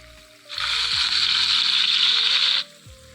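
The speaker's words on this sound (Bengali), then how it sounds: "কড়াইতে তেল গরম করে মাছগুলোকে আমি হালকা করে ভেজে নিব।" Tengra fish are lowered into hot oil in a pan, setting off a loud close sizzle that lasts about two seconds and then cuts off, with faint background music underneath.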